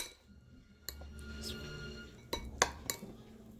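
Sushi rice being mixed with rice vinegar and sugar gives soft, intermittent scrapes and light clinks of a utensil against a bowl, quiet and close, with a few sharper taps toward the end.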